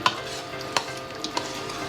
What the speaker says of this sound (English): I'm gonna keep on frying